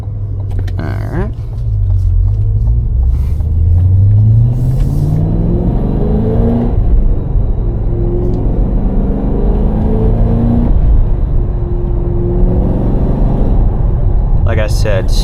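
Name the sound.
800hp Cadillac CT5-V Blackwing engine while driving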